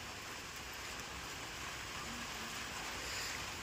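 Heavy monsoon rain pours down steadily in Bulandshahr, a dense, even hiss with no breaks and no voices, moderately quiet and continuous throughout.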